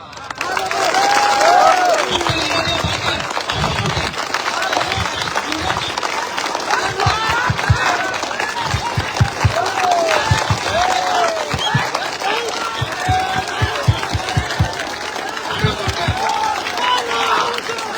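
Large crowd at a political rally in Assam applauding, a dense sustained wash of clapping and cheering lasting throughout, with voices mixed in.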